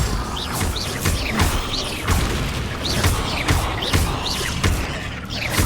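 Bombarda blasting spell going off in the Hogwarts Legacy video game, a string of loud booming impacts with crashing debris repeating roughly every second over busy game noise.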